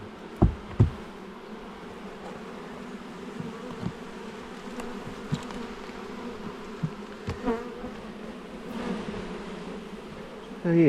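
Agitated honeybees buzz in a steady drone around an open hive during an inspection, with occasional closer individual bees zipping past and a few soft knocks from handling the frames.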